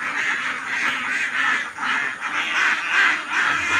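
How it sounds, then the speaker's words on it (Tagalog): Domestic ducks quacking in a steady, overlapping chorus, several birds calling in repeated rhythmic bursts, close and fairly loud with no talking. "So yan na po ang ating mga alagang itik."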